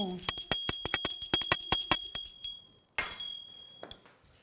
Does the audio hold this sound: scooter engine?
no